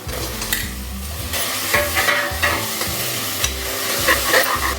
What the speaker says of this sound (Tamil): நல்லா கரம் வச்சு வதக்குறோம்